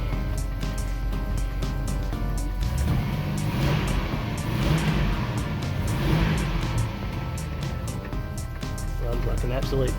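A 1974 Volvo 164E TE idles with a steady, low engine rumble close by, while someone talks over it.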